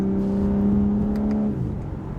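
A 2025 BMW M4 Competition xDrive engine revs hard while driving, holding a strong, steady tone before easing off to a lower rumble, close and loud, with no talk.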